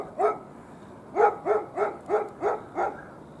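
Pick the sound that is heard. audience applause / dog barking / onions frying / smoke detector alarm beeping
dog barking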